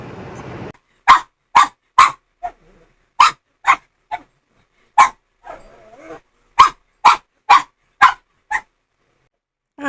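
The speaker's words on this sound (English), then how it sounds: "She just went under my chair and started scratching her back and started barking." A dog scratching her back under a chair barks in a long series of sharp, loud yaps, a dozen or so in irregular bursts with brief pauses, close by and otherwise quiet apart from a little shuffling.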